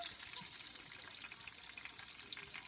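Chicken cutlets sizzle and bubble in hot oil, a steady, dense crackling hiss that holds evenly for the whole stretch with no voices over it.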